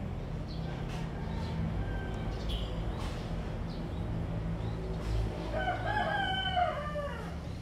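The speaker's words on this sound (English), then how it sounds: "Who's rooster in the background?" A rooster crows in the background, its harmonic call rising and falling over a steady low hum for a couple of seconds near the end, fairly distant.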